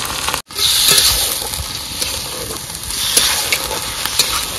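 Washed meat drops into hot oil in a pot and immediately sizzles loudly, a dense crackling hiss that surges after a brief gap and keeps bubbling steadily, close and alone.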